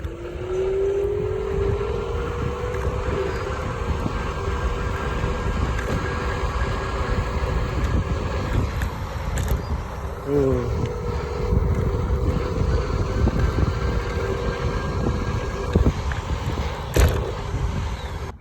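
A Hiley Tiger T8 Pro electric scooter is ridden flat out in a speed test on a bumpy surface, with a steady rising motor whine under continuous wind buffeting across the whole ride.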